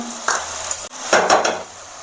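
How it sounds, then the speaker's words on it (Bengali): Chopped onions with salt fry in a pan for a Bengali yogurt chicken curry, giving a loud close sizzle broken by two quick bursts of stirring and a scrape of a utensil against the pan. "পেঁয়াজগুলো আমার একটু ভাজা ভাজা হয়ে গেছে"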